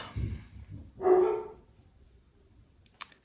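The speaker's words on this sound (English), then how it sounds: "I swear those dogs keep barking." Dogs bark in two short bursts, a louder one near the start and a stronger one about a second in, then fall quiet apart from a faint click near the end.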